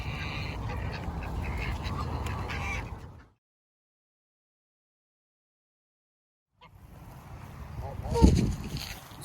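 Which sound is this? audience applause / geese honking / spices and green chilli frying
geese honking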